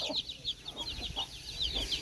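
Small flock of backyard chickens clucking repeatedly in bright overlapping calls, close by, with a faint rooster crow and no voices.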